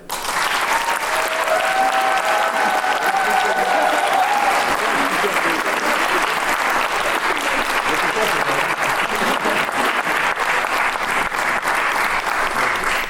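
Sustained audience applause for improv performers at a French improv challenge, loud and dense throughout with faint voices and a few whoops mixed in.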